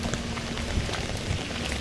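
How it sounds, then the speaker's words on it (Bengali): Rain falls steadily in a city street, a faint, even patter with a couple of soft low thumps. "ঠিক আছে, বৃষ্টি হচ্ছে, হোক"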